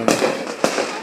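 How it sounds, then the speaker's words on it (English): Two sharp firecracker bangs go off about half a second apart at a 4th of July celebration, each a loud crack followed by a brief crackling tail, fairly close by. "Hey, firecrackers."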